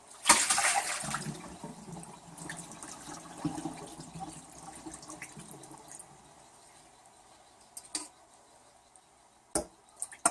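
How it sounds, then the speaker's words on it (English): Soaking water from rice noodles poured off with a brief splashing gush at the start, then a softer trickle and dribble fading out, followed by a few sharp clinks of a pan lid near the end. "so I want to drain the water off of them"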